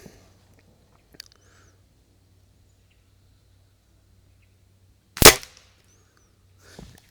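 A budget spring air rifle fires a Crosman pellet, one sharp, loud crack in an otherwise quiet setting, preceded by faint clicks and followed by a soft later thump.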